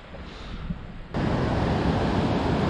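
Ocean surf rushes on a foggy morning at a fishing beach: a dull, wind-buffeted roar that suddenly swells into a loud, steady wash of breaking waves.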